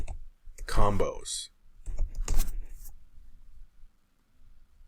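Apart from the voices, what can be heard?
typing on a computer keyboard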